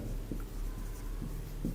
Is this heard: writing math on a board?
yes